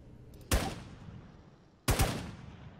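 Two loud, close gunshots about 1.4 seconds apart from the zombie-survival video game Infestation: The New Z, each a sharp crack followed by a short decaying tail.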